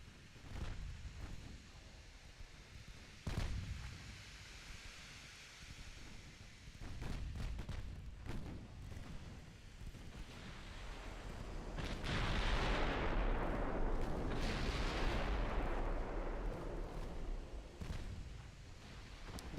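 Battleship secondary guns fire high-explosive shells in the naval strategy game Ultimate Admiral Dreadnoughts, heard as scattered, fairly faint booms and thuds, rising into a denser, rumbling stretch of gunfire over a windy background.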